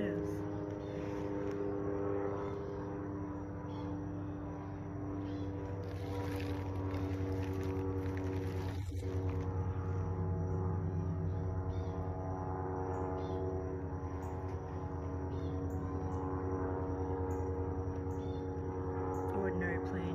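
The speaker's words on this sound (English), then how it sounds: "Ordinary plane doing absolutely nothing" An ordinary airplane passing overhead gives a steady, droning engine rumble that fills the whole stretch at an even, moderate level, with faint outdoor background and no talk.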